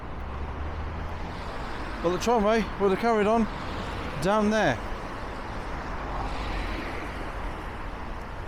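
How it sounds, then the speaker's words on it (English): Steady road traffic rumbling at a busy roundabout and dual carriageway, a continuous broad wash of passing cars at a moderate distance with someone speaking outdoors over it part of the way through. "it is quite a noisy roundabout and dual carriageway"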